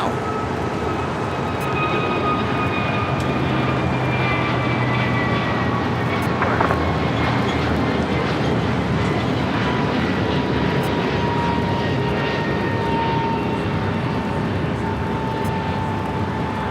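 An airliner bound for Honolulu flies past at LAX airport, a sustained loud jet roar with slowly falling engine whine tones that hold steady throughout, with no one speaking.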